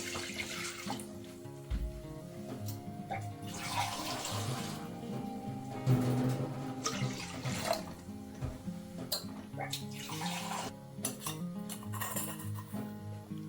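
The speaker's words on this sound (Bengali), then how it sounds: "এবারে ডোটা তৈরি করার জন্য প্রথমে কড়াইতে দিয়ে দিচ্ছি জল।" Water poured into an empty wok set on a gas flame, splashing steadily with clattering metal and faint tap-like gurgles across the whole span, fairly close and loud with no talk.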